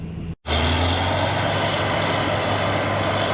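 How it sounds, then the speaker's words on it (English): A dump truck engine drones steadily and loudly at close range during earthmoving work on a muddy, rain-soaked site, after a brief cut-out at the very start. "I'm gonna go grab the dump truck"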